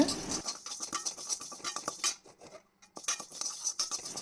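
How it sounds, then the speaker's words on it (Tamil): Yellow moong dal being dry-roasted in a pan: quiet, close rattling and scraping of lentils and a utensil against the pan, with a pattering texture, irregular taps and a brief pause midway. "அடுத்து நம்ம எடுத்து வச்சுருந்த சிறுபருப்பு எடுத்து நல்லா வறுக்கணும்"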